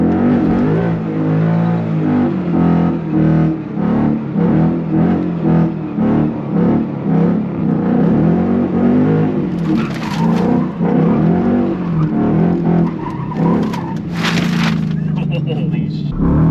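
A Ford Mustang GT S550 on launch control revs its engine loudly in a series of rising, pulsing surges. A voice talks over the revving at times, and there are sharp bursts near the end.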